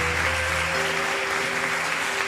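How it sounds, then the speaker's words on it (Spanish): A church congregation at a Sunday service applauding visitors, steady crowd clapping over a sustained musical tone, moderately distant. "le damos un fuerte aplauso a todos los que nos están visitando"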